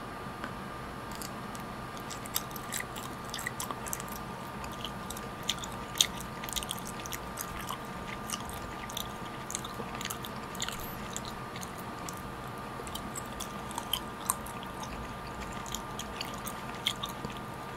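Sugar-coated mango jelly candy is chewed close to the mic, firm and slightly sticky, giving soft repeated squishy bites and smacking over several seconds without any speech.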